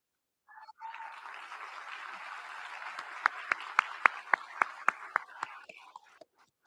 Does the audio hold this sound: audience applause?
yes